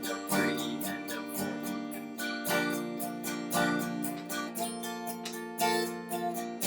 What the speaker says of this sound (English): So there's your really easy strumming pattern.